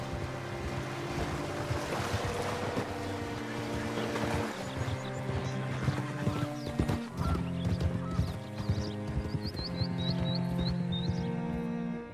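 Horse hooves clip-clop at a steady trot in Red Dead Redemption 2, beneath a busy layer of game music and ambience, moderately loud throughout.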